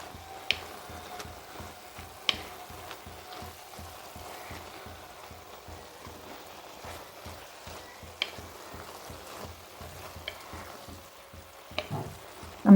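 Green spinach poriyal sizzles steadily in an uncovered pan as its water cooks off, a soft continuous hiss broken by occasional sharp clicks of stirring.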